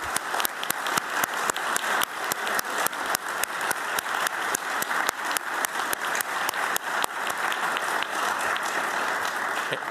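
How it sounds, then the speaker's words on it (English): Sustained audience applause for corporate awardees at a State Department award ceremony, steady dense clapping throughout with a few sharper individual claps standing out near the front. "giving a warm round of applause to all of our awardees"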